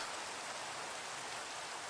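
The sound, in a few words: rain in a video game, Minecraft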